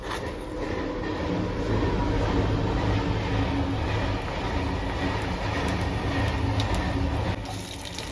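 Mustard seeds and cumin sizzle in hot oil in a pan at the start of a cauliflower vegetable dish, giving a loud, steady, dense hiss that holds without pause.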